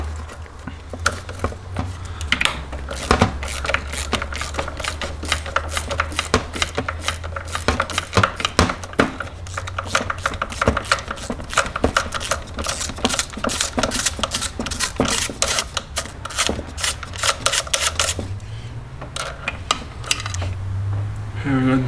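A rapid, rattling string of mechanical clicks and buzzing bursts as oil filter housing bolts are loosened with an E12 Torx bit on a BMW 335i N54/N55 engine, close and loud, pausing briefly near the end.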